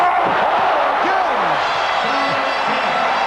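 Dense arena crowd cheering and roaring at a 1994 Team USA versus Brazil basketball game, loud and sustained throughout, with a commentator's voice faintly underneath.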